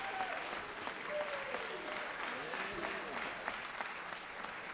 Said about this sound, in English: please give our guests a round of applause and thanks for all